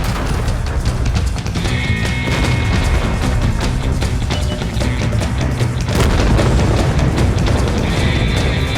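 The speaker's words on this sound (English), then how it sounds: "The Kappa is hit first," A tank in the World of Tanks video game is destroyed by fire, giving a loud, dense explosion with heavy booming rumble that carries on through the whole stretch, with no voices.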